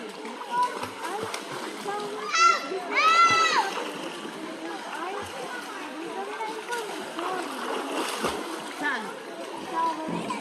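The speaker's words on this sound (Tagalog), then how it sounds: "Sige nga, langoy ka nga, Sari." Water splashing as a child swims in shallow water outdoors, steady splatter throughout with children's voices and chatter mixed in.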